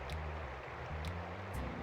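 A waterfall in the Pokémon Colosseum video game gives a soft, steady rushing wash of water, faint and continuous, with a few brief higher ticks over it.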